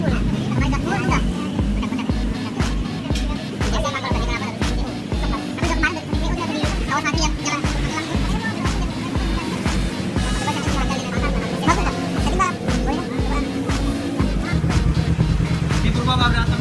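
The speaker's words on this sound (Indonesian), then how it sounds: "Oh, jarang tarik gas full. Tarik gas full enggak?" A Kawasaki Ninja 300 FI motorcycle engine revving hard at full throttle, with a loud, sustained rough drone close by and voices talking over it.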